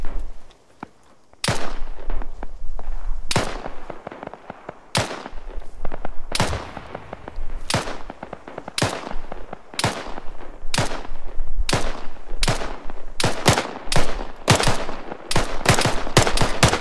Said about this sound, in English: If they point their weapons, They are shooting at you.